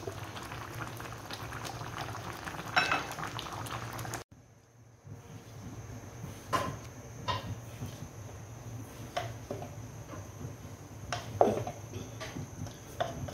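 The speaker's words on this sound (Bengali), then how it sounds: "ফ্রাইড রাইস রান্না করা হচ্ছে মেহমানদের জন্য" Fried rice cooks in a pan with a steady close bubbling and sizzling hiss, cut off briefly, then resuming with scattered pops and crackles.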